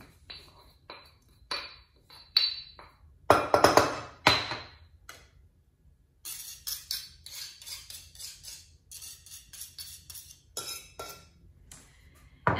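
Three to four whole peppercorns gently crushed in a mortar with a pestle while making golden milk: a scattered series of sharp clinks and taps, with one louder cluster of grinding knocks midway, then lighter intermittent tapping.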